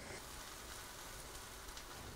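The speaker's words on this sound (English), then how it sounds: "And you should hear that sizzle." Roti cooking on a hot griddle gives off a steady, soft sizzle with fine crackling, a continuous hiss running evenly throughout with no voices.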